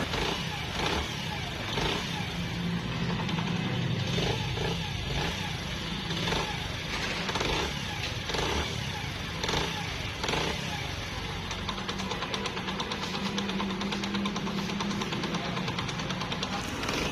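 A motorcycle engine runs after a head camshaft and tappet repair, idling with a steady, even putter and a slight mechanical clatter, close by and alone.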